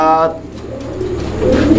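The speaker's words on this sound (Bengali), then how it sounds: "এটা তো আমার পছন্দের কবুতর ভাই" A pigeon coos in a few low, soft rounds close by, with a brief tonal call at the start and more cooing near the end.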